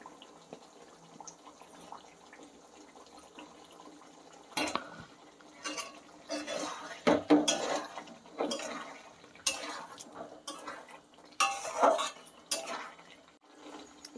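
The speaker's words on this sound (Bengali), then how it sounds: "আলুগুলো দিয়ে ভালো করে কষবো।" Potatoes get stirred into spice paste in a pan, an intermittent scraping and clatter of the spoon against metal that starts quiet and then comes in bursts of stirring.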